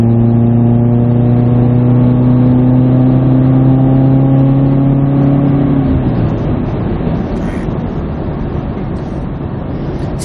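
2017 Subaru Forester with a muffler delete revving toward 5,000 RPM, a loud steady droning exhaust tone held for several seconds, then dropping away into rough road and wind roar as the engine eases off.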